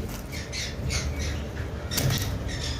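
Pet cockatiels, including a pied pair, squawk in a bird sale setting, repeated harsh calls over a continuous busy background of other birds, fairly close and steady.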